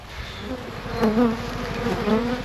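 Bees buzz close by, a droning hum with wavering pitch as they fly around, steady and fairly loud throughout.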